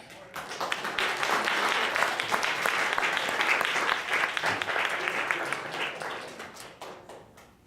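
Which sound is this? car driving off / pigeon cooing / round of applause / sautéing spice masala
round of applause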